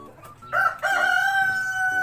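A heritage-breed rooster crows once, close and loud, with a long sustained call after a brief opening note, while quiet clucking from other chickens in the coop sits beneath it.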